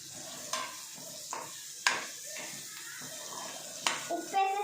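Chicken frying Telangana style in a pan, stirred with a soft sizzle and scraping clatter; a few sharp utensil knocks punctuate the frying, with a voice talking faintly in the background.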